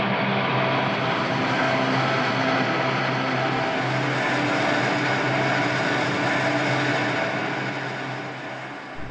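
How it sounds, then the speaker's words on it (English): NASA rocket takeoff recording processed into a sustained guitar-like pad, a loud dense continuous roar with steady tonal hum underneath, holding level throughout before cutting off abruptly. "So this sound became takeoff guitar, and here's what it sounds like as part of the pad."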